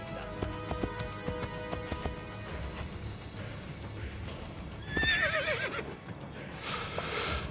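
A horse in Assassin's Creed Brotherhood trots with steady clip-clop hoofbeats, then gives a loud, shrill whinny midway, followed by a bright hissing sound near the end.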